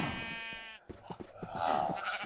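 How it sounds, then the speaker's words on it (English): Sheep bleat on a sheep farm in the Minecraft video game, a few wavering game-animal calls sounding close and clear over a busy mix of other game noises. "the sheep farm is going well, I see"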